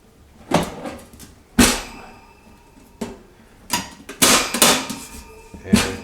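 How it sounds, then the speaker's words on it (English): Legs of a Weber Go Anywhere portable charcoal grill snapping into place, heard as several sharp, close metallic clicks and clacks spaced irregularly, with quieter handling rattles between them. "The legs will snap over."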